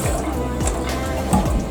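Water pours from a tap into half a cup of rice for a rice cooker, a steady close splashing flow with a few brief gurgles.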